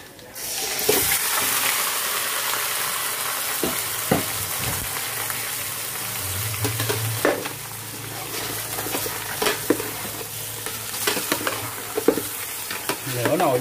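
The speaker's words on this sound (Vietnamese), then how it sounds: "Mình xào sơ cá này vô dầu á" Fish is stir-fried in hot oil in a pot, with a steady bright sizzle running throughout, broken by scattered clinks and scrapes of stirring and a brief low thud partway through.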